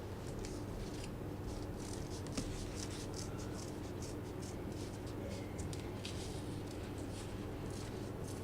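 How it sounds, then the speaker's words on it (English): Scissors cutting through thick paper, a steady run of faint, close snips and crisp rustles repeating for several seconds over a low background hum, with no talk. "now that I've finished drawing on one side of the paper, I'm gonna cut it out"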